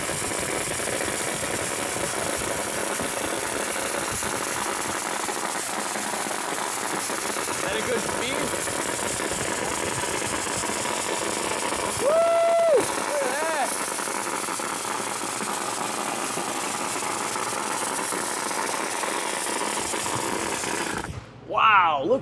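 A dry ice blaster set to 50 PSI cleans the fiberglass body of a DeLorean, giving a loud, unbroken blasting hiss that runs the whole time, with a brief tonal squeal in the middle and voices now and then.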